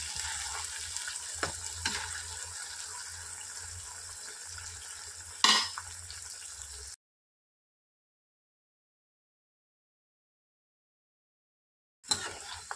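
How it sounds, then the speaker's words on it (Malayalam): Jackfruit chips frying in hot oil over a medium flame: a steady close hiss and crackle with a brief louder burst, then silence, and the sizzle returning at the very end. "അതിന് ഇനി ഈ ചക്ക ഈ എണ്ണയിലേക്ക് ഇട്ട് കൊടുക്കാം"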